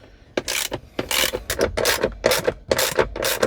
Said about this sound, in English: I'm going to be taking off these two 10mm bolts right here